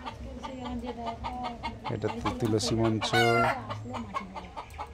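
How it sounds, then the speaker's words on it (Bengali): Chickens foraging outdoors cluck in short repeated bursts, with a loud rooster-like crow rising near the end; a person speaks briefly over the birds. "এই যে কত মুরগি সব চড়ছে প্রচুর"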